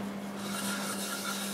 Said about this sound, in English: I'll start with a coat of shellac-based sanding sealer